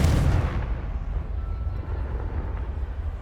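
A Confringo blasting spell explodes in Hogwarts Legacy, a loud deep boom at the start that rolls off into a low rumbling tail.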